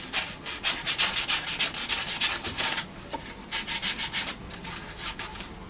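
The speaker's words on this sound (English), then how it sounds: "I've got the little light sanding now" Light hand sanding on a guitar body in a workshop, a run of quick rhythmic back-and-forth rasping strokes, then a short pause and a second burst of strokes, close and clear with no talking.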